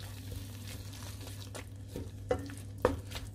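Tomato added to a pan of leftover pork lechon for binagoongan: soft, steady frying sizzle at low level, broken by a few sharp scraping stirs and clinks of a utensil against the pan.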